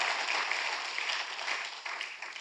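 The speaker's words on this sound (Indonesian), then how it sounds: "tepuk tangannya pula yang paling meriah buat Tuhan" A church congregation applauding during a worship service: dense, sustained clapping from a large crowd filling the room, loud and continuous for a couple of seconds.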